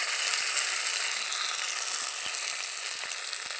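Ginger garlic paste, cumin, coriander and tomato paste fry with browned onion in a pan, giving a steady hissing sizzle broken by a few soft ticks of stirring.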